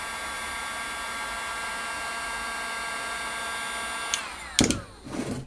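A DeWalt 18V cordless heat gun runs steadily with a loud, high-pitched whine and stacked tonal lines over a broad airflow hiss, then winds down near the end with a few bumps and clatters.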